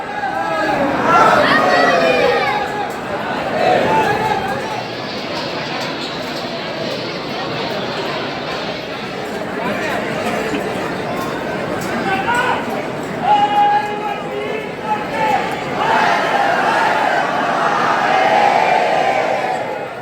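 Dense crowd of devotees at the Mahakal temple entrance gate in Ujjain, a loud continuous chatter of many voices close by, with chanted cheers and shouts rising over the murmur.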